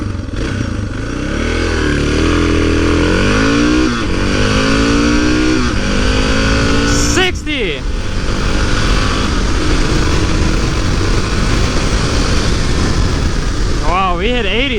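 A Suzuki DR650 dual-sport motorcycle at high speed during an offroad race, its loud engine droning and rising in pitch through the gears, with wind buffeting and brief shifts, no one talking.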